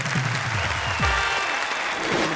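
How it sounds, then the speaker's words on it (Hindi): A studio audience at a Hindi poetry show applauds, a steady wash of clapping throughout, with a low tonal musical flourish or swoosh sounding beneath it and no speech. "और हम उन्हें देंगे तालियां"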